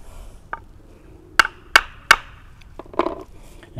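A hammer drives a wooden wedge into the tapered tenon of a spindle stool joint: about five sharp, close knocks, with a lighter tap first, then three strong blows and a quicker cluster near the end.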